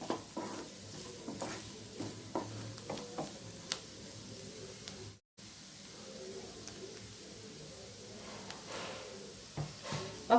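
Carrots and beans fry in oil while a spoon stirs them, giving quiet scraping strokes over a faint sizzle, with a brief dropout midway.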